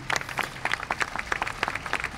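Festival audience applauding the sound technicians: dense, steady clapping from a crowd, fairly close and continuous throughout, with no speech over it.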